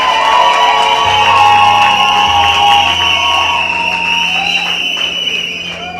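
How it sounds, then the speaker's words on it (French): Guests at a town hall wedding cheer and applaud the newlyweds, with loud crowd noise, whoops and raised voices mixed with clapping and sustained tonal sounds throughout. "Mesdames et messieurs, je vous prie de bien vouloir applaudir pour les mariés."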